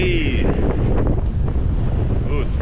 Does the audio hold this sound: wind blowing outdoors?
yes